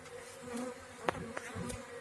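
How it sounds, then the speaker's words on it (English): A low bee buzz hums steadily throughout during a bee removal, with a few sharp knocks or taps cutting in near the middle. "There's the bees running in here."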